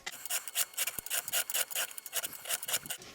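A hand file rasps back and forth across a chainsaw chain during sharpening, producing quick repeated scraping strokes in an uneven rhythm, close and fairly loud with no voices.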